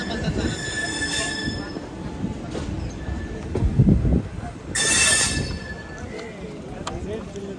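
The Sairang Express rolls along near Kolkata, with rumbling wheels, a loud metallic squeal bursting in around the middle and thuds from the carriages, heard from on board.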